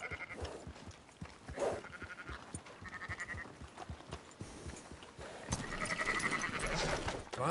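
Sheep in Red Dead Redemption 2 bleat repeatedly at moderate volume, mixed with hoof clops and ambient rustling, with a few louder bleats near the end.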